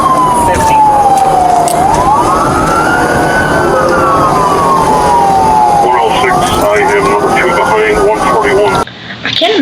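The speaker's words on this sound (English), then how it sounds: "they hear a bunch of sirens" Wailing emergency sirens from police and fire vehicles during a chase after a stolen car, rising and falling loudly and continuously through the scene with a chopper-like drone and faint talk beneath, then cutting off abruptly at the end.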